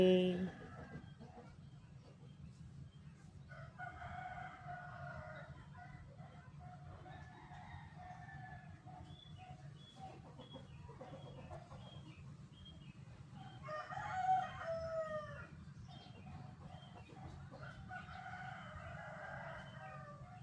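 A backyard rooster crows and hens cluck in repeated calls over a low steady hum, with people talking quietly now and then.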